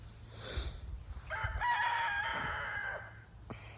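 A rooster crows once in a long, clear cock-a-doodle-doo that rises and holds before trailing off, fairly close, with some low background rumble and a brief squawk near the start.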